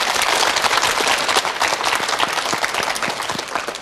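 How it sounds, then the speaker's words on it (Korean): Studio audience applauding through a televised lecture, steady dense clapping that holds loud and continuous from start to finish with no voices over it. "박수 부탁드리겠습니다"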